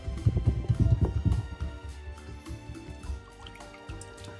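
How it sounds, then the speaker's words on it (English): Eggs are whisked with a splash of milk in a bowl, giving quick wet clicking strokes that are busy at first and then ease off to a softer, sparser rhythm. "And then we're going to whisk up our eggs."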